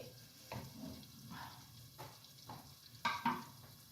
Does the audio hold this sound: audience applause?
no